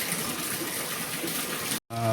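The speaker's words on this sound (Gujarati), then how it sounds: "વરસાદ મિત્રો સારો આવી ગયો. જો ઘણો આવે અને એ ચાલુ છે." Steady, dense rush of heavy rain pouring down continuously, loud and close, with a brief cut-off near the end.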